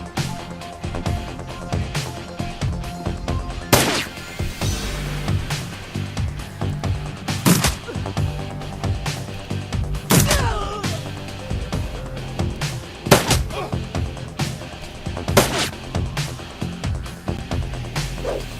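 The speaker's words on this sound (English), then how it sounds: "These guys love throwing them fucking grenades." Grenade explosions in the video game Shadowrun Returns, several sharp loud blasts spaced a few seconds apart over a busy, steady game soundscape.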